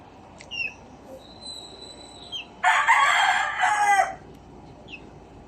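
A Boston yellow-legged gamefowl rooster crows once, loud and close, in a backyard, while faint chick peeps and small bird calls sound before and after it.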